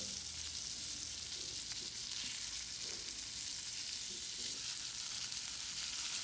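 Pieces fry in hot oil in a pan for a Kerala home lunch, a steady, dense sizzle running unbroken throughout with faint stirring and turning, no talk.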